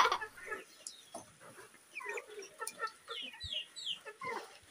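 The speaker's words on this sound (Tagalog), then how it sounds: "Ayan po ang aking mga alagang manok." Pet chickens cluck and chatter in a small flock, a busy mix of short overlapping clucks and squawks, moderately close and fairly quiet, with no voices over them.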